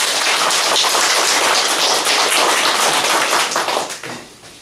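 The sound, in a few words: congregation clapping applause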